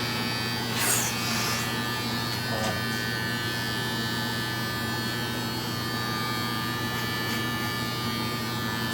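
Electric hair clippers shave a man's head up close, giving a steady continuous buzzing hum with brief scraping bursts as the blades pass over the scalp.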